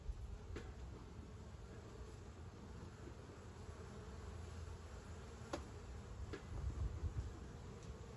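Honey bees hum in a soft, steady buzz around an opened beehive being smoked outdoors, faint and continuous with a few brief clicks.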